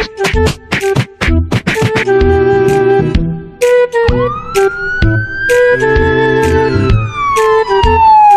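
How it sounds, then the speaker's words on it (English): An ambulance siren wails loudly over sharp knocking and thumping toy-play noises, the tone rising and then slowly sweeping down, close and with no talking. "Finally, the ambulance arrived."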